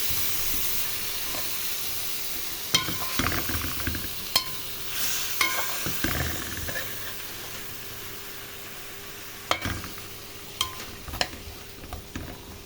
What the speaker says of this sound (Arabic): سيبها يا جماعة تستوي على مهلها خالص وقلبيها